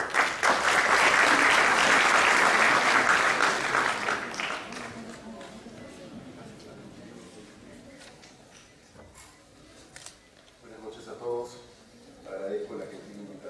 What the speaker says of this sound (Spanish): Con un fuerte aplauso.